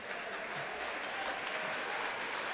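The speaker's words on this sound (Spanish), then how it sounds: "Aplaude la grada de menorquina." Fans of Hestia Menorca applaud from the stands at a basketball game, a steady, dense wash of clapping that fills the whole moment without a break.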